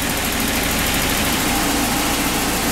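A Volvo 240 idling while warming up after a radiator replacement, a loud, steady, close engine rumble with constant vibration and no talking.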